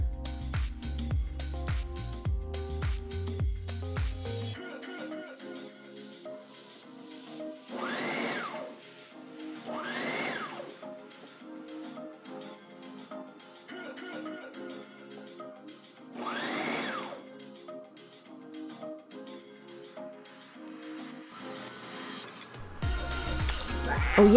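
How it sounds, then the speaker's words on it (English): Sewing machine winding thread onto a bobbin, a fast whirring hum interrupted by low mechanical rumbles and clicks, close and moderately loud, starting and stopping over about twenty seconds with no talk. "putting more thread on the bobbin"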